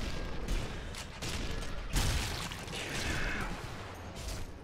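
Gunfire in the Nazi Zombie Army video game, a dense mix of cracks and booms with several louder bursts spread over a few seconds, moderately distant and blended with game ambience.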